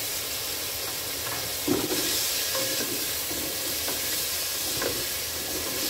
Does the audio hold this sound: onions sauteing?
yes